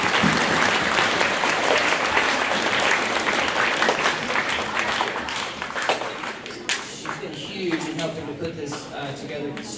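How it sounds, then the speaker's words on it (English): An audience applauds at a school orchestra concert, with loud dense clapping that thins into scattered claps and a voice speaking over the tail. "let's give her a round of applause back there"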